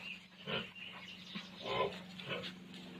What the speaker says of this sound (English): I give some rice hay to the pig here.